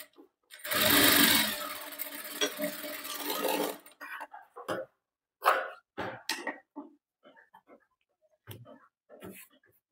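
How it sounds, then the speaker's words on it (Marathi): Sewing machine stitching a boatneck blouse, a loud continuous run of about three seconds near the start, followed by intermittent cloth handling and short rustles. "हे बघा, या पद्धतीने फोल्ड करायचं आणि इथे शिलाई मारायची."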